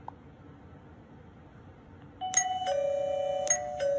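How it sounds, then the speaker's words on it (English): A Campark WiFi video doorbell chime rings out as a clear two-tone electronic ding-dong with bright bell-like tones, repeated and sustained, close and moderately loud over faint room noise. "There's a visitor doorbell at that time."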